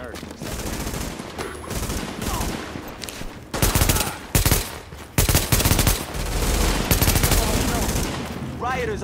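Heavy gunfire in Tom Clancy's The Division, with sustained automatic bursts and sharp, loud volleys that come in clusters, mixed with radio-style voices and game effects.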